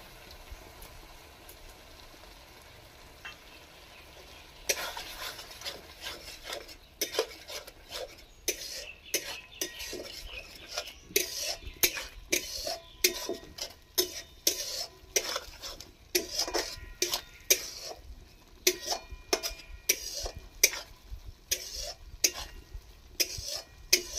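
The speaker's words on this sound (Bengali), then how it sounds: "এটাও খানিকক্ষণ কষতে থাকবো মশলাটা" A spoon scrapes and stirs a spice masala with cashew and poppy-seed paste frying in oil in a pan for a Bengali pointed gourd dish, with quiet sizzling that gives way to busy, irregular metallic scraping.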